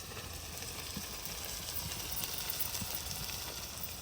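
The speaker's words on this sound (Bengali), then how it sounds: "এখানে চিকেনটা কত সুন্দর কষছে দেখতে পাচ্ছ।" Chicken pieces sautéing for Bengali khichuri in a pan, a steady soft sizzle and crackle with occasional faint stirring clicks, close and quiet, without talk.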